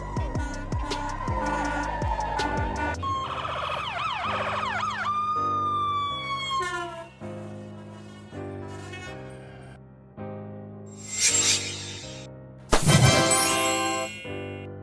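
Fire and ambulance emergency sirens wail and yelp in rising and falling sweeps, fairly loud, with several different siren patterns changing over time and short blaring bursts near the end.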